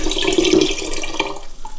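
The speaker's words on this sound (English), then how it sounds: "I'm going to pour this into the pinter." Dissolved jaggery and malt solution pours steadily into a Pinter home-brewing vessel for a West Neuvo Lager, a close, continuous liquid splash and gurgle running for a couple of seconds.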